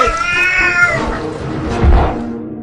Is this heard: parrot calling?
no